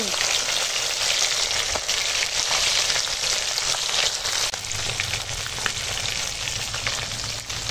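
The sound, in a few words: bhola fish frying in oil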